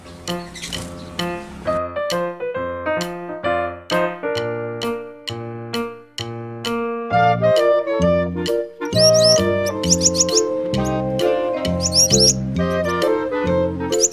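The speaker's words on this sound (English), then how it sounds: "Okay, let's put the finch in the cage." A caged finch chirps in quick bright repeated notes, with clusters of higher tinkling calls and plinking tones layered over one another, loud and close throughout.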